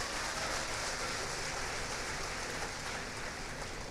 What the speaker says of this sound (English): You can give yourself a round of applause for that.